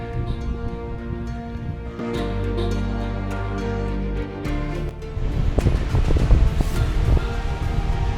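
Glacial meltwater stream running through rocky Alpine terrain, a steady rushing wash that swells louder and rougher in the second half, with wind buffeting the microphone throughout.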